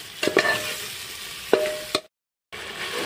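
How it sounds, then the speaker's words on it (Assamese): Meat tossed with salt and spices fries in a pan, a steady sizzle broken by a few sharp scraping stirs, then a brief silence before the frying resumes. "মাংসখিনি ভালদৰে মছলাৰ লগত এনেদৰে ভাজি ল'লোঁ"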